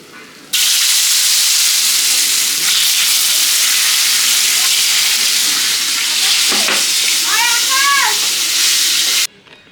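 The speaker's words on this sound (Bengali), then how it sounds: "এই তেলের মধ্যে আলুগুলো ভেজে নিব" Potatoes fry in hot oil, giving a loud, steady hiss that starts abruptly and cuts off near the end, with a few faint clinks in between.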